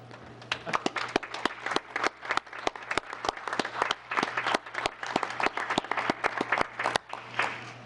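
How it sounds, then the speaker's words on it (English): Town council meeting audience giving a round of applause for budget staff, a small room of scattered individual claps in an uneven rhythm, moderately close and continuous throughout. "We'd like to give her another big round of applause."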